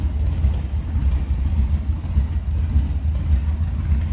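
A custom-built 1936 Ford Model 68 Deluxe street rod engine with a carburetor setup idles nearby in a deep, steady, lumpy low rumble, fairly loud and without talk.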